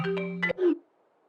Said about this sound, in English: Oh, my phone's ringing.